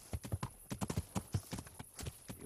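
Horse hooves clip-clop in the medieval game Kingdom Come: Deliverance, a close, steady run of hoofbeats with uneven spacing.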